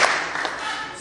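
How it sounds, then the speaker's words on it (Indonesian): An audience of high school students claps once in unison at a Jakarta dialogue event, a single loud burst of many hands at the start that decays into a brief rustling tail. "Tepuk sekali."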